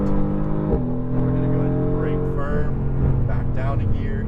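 Mercedes-AMG GT R engine on a racetrack, a steady droning note with harmonics that shifts in pitch as the throttle is fed in, with an instructor's voice talking over it throughout.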